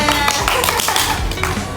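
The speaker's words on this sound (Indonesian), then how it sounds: "Ya, tepuk tangan semuanya." Elementary school children at a Pramuka scout meeting clap their hands together in quick, patterned bursts, with voices mixed in among the claps.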